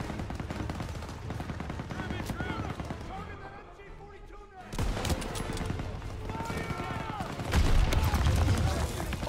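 Bursts of MG-42 machine gun fire and other gunshots crackle through a Call of Duty WWII battle, rapid and dense with a brief lull midway, while voices shout over the shooting.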